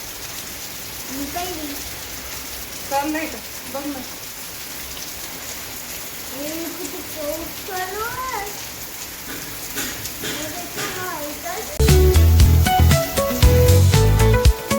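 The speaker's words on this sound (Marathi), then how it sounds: "मस्त पाऊस चालू बाहेर" Steady rain patters outside while someone talks with a child nearby; toward the end a louder burst of music takes over.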